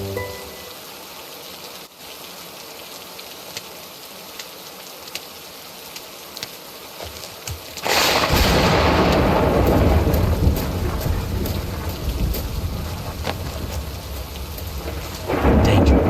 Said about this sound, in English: Great, this rain's relentless.